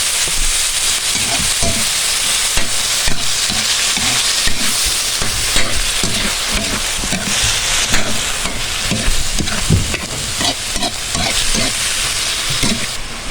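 Marinated meat for kaldereta sizzles loudly in a hot pan while being stirred, a dense, continuous frying roar broken by repeated scraping and clattering strokes, with no voices.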